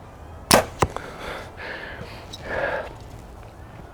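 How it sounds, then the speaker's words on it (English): Arrows leave an Athens AXXIS31 compound bow in two sharp snaps about a third of a second apart. Each snap is followed by a quick fading whir, then faint outdoor noise. "The shot cycles, it's clean. These arrows are coming off here nice."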